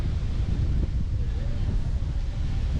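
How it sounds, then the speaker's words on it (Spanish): Strong wind at a beach with a rough sea, steady heavy rumble of wind buffeting the microphone from start to finish. "La verdad es que hace un aire un poco fuerte."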